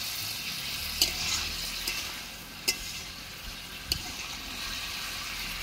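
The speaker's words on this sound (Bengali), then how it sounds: "এবারে এইটার পানি যতক্ষণ না মরবে ততক্ষণ এটাকে ছেড়ে দিতে হবে ভালো করে কষিয়ে।" Food frying and being stirred in a pan as its moisture cooks off, a steady soft sizzle with a few sharp clicks of a utensil against the pan.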